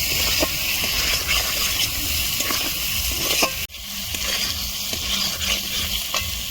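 Spices and tomato stirred in a frying pan, giving a continuous close sizzle with scraping stir strokes and a brief dip about halfway through before the frying resumes.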